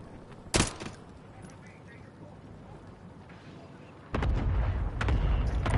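Danger-close artillery strike in a shooter video game: one sharp blast early on, then a loud rumbling barrage of impacts that builds and holds, with game voice lines over the low background.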